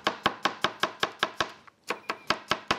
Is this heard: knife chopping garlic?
yes